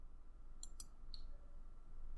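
A computer mouse clicks two or three times in quick succession, faint and crisp over a low steady background hum during a software walkthrough.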